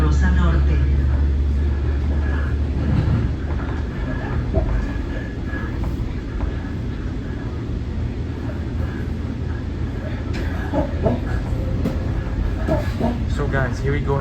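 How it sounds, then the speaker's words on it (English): Onboard a southbound SMART Nippon Sharyo diesel multiple unit train, a steady loud rumble of engine and wheels fills the cabin continuously, with voices talking over it. "So guys, here we go heading back on this smart train from Sonoma County Airport to Larkspur, the southbound."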